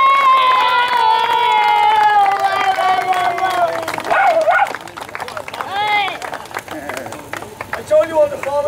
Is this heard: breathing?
no